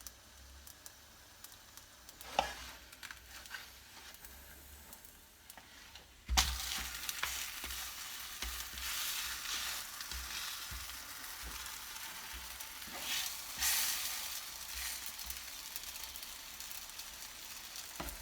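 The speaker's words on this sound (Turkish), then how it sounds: "ters düz ederek böyle güzelce her tarafını kızarta, kızarana kadar pişirelim" Katmer flatbread frying in a pan, a soft continuous sizzle that jumps louder midway as the dough is flipped, with occasional clicks and scrapes, close and alone without talk.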